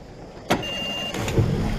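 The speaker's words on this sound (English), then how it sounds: "we'll make sure we're in neutral, which we are, and we turn the ignition" A boat's engine is started with the ignition key while in neutral: a short burst of cranking, a thin electronic tone, then a second surge as the motor catches and settles into a steady low running sound, heard close up.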